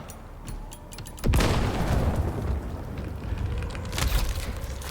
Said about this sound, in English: Oh shit, motherfucker's got grenades.